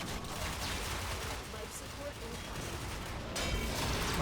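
Akstiletto pistols firing in Warframe, a dense rapid stream of gunfire running through the whole stretch, loud and continuous with dull booming low end and a slight lift near the end.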